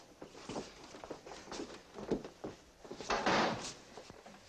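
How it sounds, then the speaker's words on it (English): A door is shut during a tense office hostage standoff, with a few dull knocks and thuds among shuffling movement, moderately close and fairly quiet, no talk. "Shut the door."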